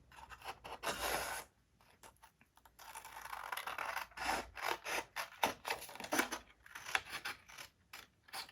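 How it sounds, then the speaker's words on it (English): Scissors cut a small paper strip for a stacked pocket mini album: close, quiet crisp snips and mechanical blade clicks in uneven bursts, with no talking. "just continue cutting off this whole little strip"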